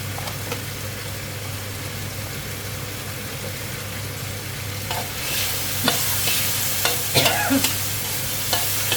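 Straw mushrooms and squid stir-fry in a pan, a low sizzle building into louder bursts of hissing with sharp spatula scrapes and clacks against the pan in the second half, close and without talking.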